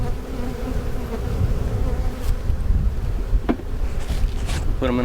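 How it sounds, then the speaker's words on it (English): Honeybees buzz loudly and close as they are shaken off a hive frame, a dense steady drone with a few brief knocks and handling sounds. "I'll shake the bees off"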